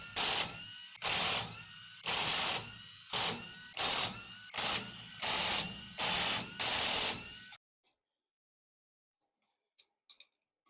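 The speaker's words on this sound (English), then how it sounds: "we're gonna go ahead and remove all the 13mm bolts holding on the rear diff cover" A hand ratchet cranks out the 13mm bolts on a truck's rear differential cover, with rapid clicking bursts repeating about ten times in a steady rhythm, close and loud, before falling quiet with a few faint taps.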